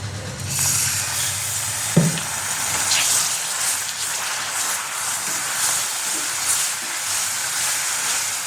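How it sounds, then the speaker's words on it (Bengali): Small amounts of water are poured into a hot pan after the gas is switched off and stirred in, producing a steady, hissing sizzle throughout with a single clunk from the pan partway through. "অল্প অল্প করে জল দিয়ে আমি নাড়তে থাকবো, একটু জল দেবো আমি।"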